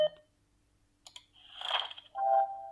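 A button pressed on a Victor Reader audiobook player gives a sharp click, followed by short bursts of synthetic audio and a brief tone from the device, all quiet and close.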